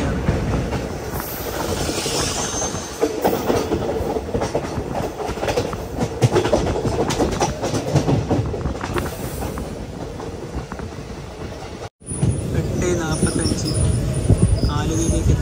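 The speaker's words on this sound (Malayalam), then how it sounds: "ആലുവ റെയിൽവേ സ്റ്റേഷനിലേക്ക് നമ്മുടെ ട്രെയിൻ എത്തിക്കൊണ്ടിരിക്കുകയാണ്." A Guruvayur to Ernakulam passenger train rolls into Aluva railway station, its wheels clattering and rumbling loudly close by with a faint hiss, while a voice talks over the noise.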